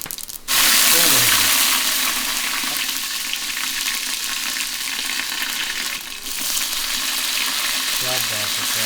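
Mustard seeds, fenugreek seeds and red chilies hit hot Fortune refined oil in a pan, setting off a loud, continuous sizzle and crackle that lasts throughout, with brief talk at the start and end.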